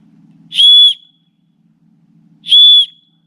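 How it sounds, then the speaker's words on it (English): Two loud, shrill blasts from a steel whistle packed in a survival shovel kit, each about half a second long and separated by a couple of seconds of near silence. "Nice loud whistle."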